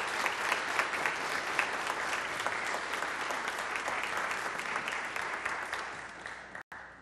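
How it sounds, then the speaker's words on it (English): A church congregation at a Sunday service at Trinity United Church on PEI gives a steady round of applause, dense and sustained clapping throughout that cuts off sharply at the very end. "let's express our gratitude with a round of applause"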